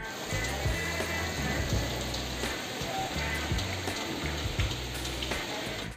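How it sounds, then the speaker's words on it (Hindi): Steady rain falls at dawn before the morning prayer, a dense even hiss of drops on surfaces, loud and continuous throughout with a low rumble beneath. "देख सकते हैं क्या तो बारिश है माशाल्लाह से।"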